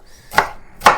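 Two sharp knife chops through onion on a cutting board, close and fairly loud, spaced about half a second apart with quiet in between.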